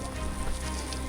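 Hail pelting down during a mountain hike on the Tour du Mont Blanc, a steady dense patter of small ice pellets close by, continuous and fairly loud with no talk.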